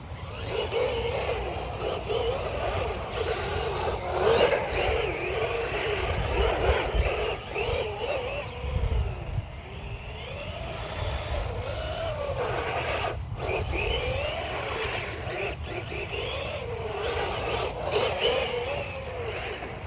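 A Tamiya Frog RC buggy with a hotter vintage motor whines and buzzes as it drives, its pitch rising and falling repeatedly over a rough rolling rumble, loud and close for the whole stretch.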